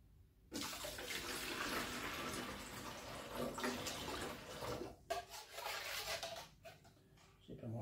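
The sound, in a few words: water being poured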